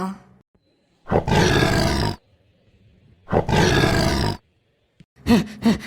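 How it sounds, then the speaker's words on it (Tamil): Cartoon lion roaring in two long, loud bursts separated by short silences, followed by a brief grunting snarl at the end. "அச்சச்சோ, சிங்கம் வருதாட்டுக்க."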